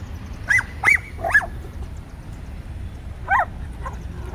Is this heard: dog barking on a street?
yes